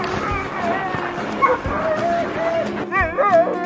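Sled huskies bark and yip excitedly before a sleigh ride in Rovaniemi, Finland, a busy overlapping chorus of high yelps and whines close by, with people talking over it.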